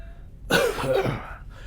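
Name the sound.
cough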